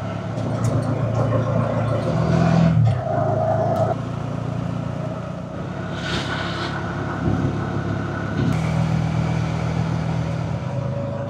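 Steady engine drone and road rumble from a CNG auto-rickshaw riding through Rangamati town, loud and continuous with a few passing bumps and a brief louder stretch; no talk is evident.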